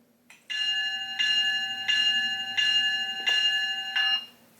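An MTH HO scale CSX locomotive model with a Loksound 5 decoder rings its electronic bell in five evenly spaced, bright, sustained tones, clear and isolated.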